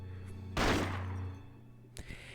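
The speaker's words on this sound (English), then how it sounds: "accompanied by the ear-splitting sound of gunfire" One loud gunshot in the video game Persona 4 Arena Ultimax booms over a steady low hum and rings out, followed by a second, shorter crack.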